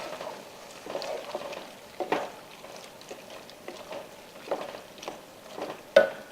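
Spoon stirring fire roasted diced tomatoes in a bowl, soft wet squelches and occasional scrapes in an irregular rhythm, close and fairly quiet with no talk.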